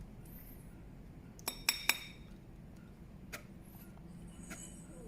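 A glass part clinks as it is fitted into the paint tank of a Multipro electric spray gun, three quick bright taps close together, then a fainter clink after a pause, against a quiet room hum.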